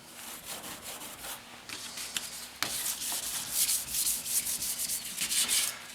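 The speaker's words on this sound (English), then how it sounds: "Just use a bit of a light scuff cloth." Light scuff cloth rubbed by hand over a car body panel during a rust repair, soft close-up swishing strokes in quick repeated passes that grow a little louder partway through.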